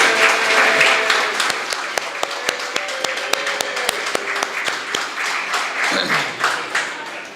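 A banquet audience of Rotarians in South Trinidad gives a hearty round of applause to welcome the District Governor, with dense clapping and sharp individual claps standing out close by before the sound tapers off.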